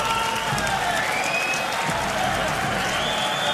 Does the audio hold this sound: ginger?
no